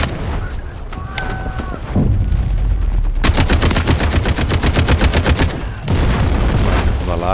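Rapid automatic gunfire in the video game Delta Force Hawk Ops, with a loud sustained burst of evenly spaced shots following scattered single reports and other game effects.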